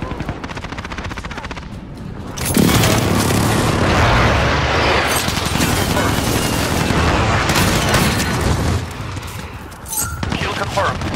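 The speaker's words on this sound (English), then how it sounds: "Allied precision airstrike incoming." Airstrike explosions in a war video game, heard as a loud sustained roar of blasts and rapid gunfire that lasts several seconds, with game radio voices and chatter before and after.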